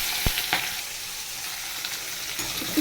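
Onions frying with eggs in a pan for a spiced egg curry, giving a steady close sizzle with a couple of sharp clicks of utensils early on, no voices.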